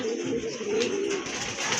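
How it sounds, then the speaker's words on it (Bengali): A pair of Koka pigeons coo steadily at close range, a soft, throaty, continuous murmur with no other sounds over it. "আরেক জোড়া কবুতর, এটা হচ্ছে কোকা কবুতর"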